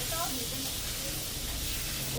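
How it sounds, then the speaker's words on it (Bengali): Potato and pumpkin pieces frying together in a pan give a steady, soft broadband sizzle throughout, fairly quiet and continuous with no clear stirring strokes. "এখন আলুটা ভেজে নেব এর মধ্যে আলু আর কুমড়ো একসাথে সুন্দর করে ভেজে নেবো"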